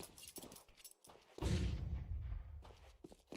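Pistol gunfire in a competitive shooter video game match: a sudden heavy shot with a booming low-end rumble that slowly fades, preceded by faint scattered thuds and footstep-like taps.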